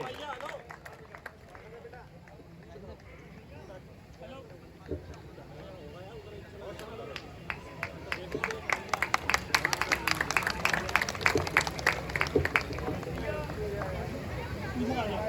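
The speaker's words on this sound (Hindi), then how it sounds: "एक बार जोरदार तालियों से काव्य श्री का स्वागत करें।" Enthusiastic applause from a seated audience greets a poet stepping onto the stage at a live Hindi kavi sammelan, starting as scattered claps and swelling into dense, loud clapping with crowd murmur through the second half.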